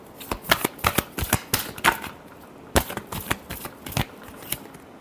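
Tarot cards being shuffled by hand, a run of crisp riffling and slapping bursts in quick uneven succession, close and fairly quiet, with a short pause midway before more shuffling.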